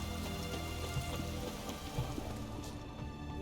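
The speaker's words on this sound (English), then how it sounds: "a downpour" A heavy downpour in The Witcher 3 game world: dense, continuous rain hissing on surfaces with scattered louder drops, steady and enveloping with no talk.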